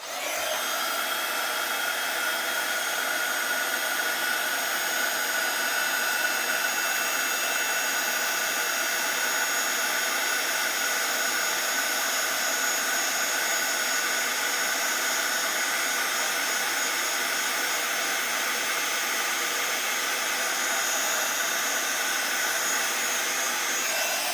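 A handheld heat tool blows on a card to melt clear gloss embossing powder over the ink, giving a constant loud airy whoosh that runs unbroken from start to finish with no voices.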